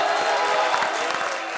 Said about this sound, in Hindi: इसी बात में ठोको ताली।